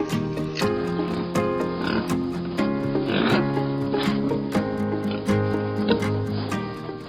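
Pigs grunt and oink on a farm, a steady run of overlapping calls from several animals at moderate loudness with no talk.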